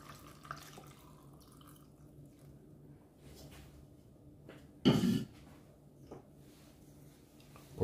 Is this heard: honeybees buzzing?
no